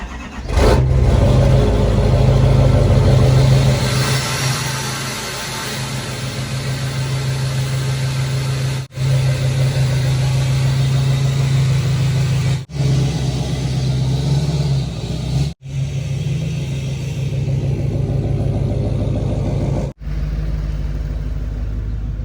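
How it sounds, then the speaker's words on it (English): A Duramax diesel truck engine rumbles steadily at idle after a cold start, a deep low throb running continuously with slight pulsing and a few brief dips. "we're going to get a little cold start"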